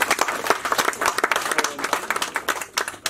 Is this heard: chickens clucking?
no